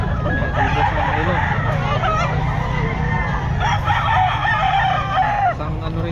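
A gamefowl stag crows repeatedly at a pet market in Bocaue, its calls loud and close over a busy background of other fowl and crowd noise.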